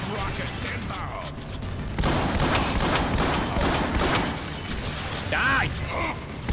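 Gunfire in the video game Transformers: War for Cybertron: dense, rapid bursts of shots and impacts crackle over a constant roar of battle noise, with mechanical clanks and a sharp metallic ring near the end.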